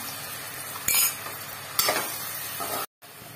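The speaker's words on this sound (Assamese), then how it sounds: "এতিয়া এনেকৈ কিছু সময় মই ভাজি থাকিম।" Ginger, garlic and chili powders fry in oil in a pan for a meat curry, a steady sizzle broken by two sharp scraping stirs and a brief cut to silence near the end.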